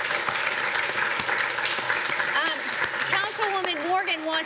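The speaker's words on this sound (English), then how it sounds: "Please give yourself a big round of applause if you participated." Audience applause at a televised Coffee With The Mayor community event, steady clapping across the room with voices talking and cheering over it.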